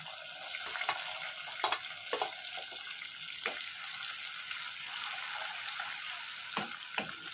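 Dried chilies, garlic and onions frying in oil, a steady soft sizzle with faint scattered pops and crackles, quiet and continuous without voices.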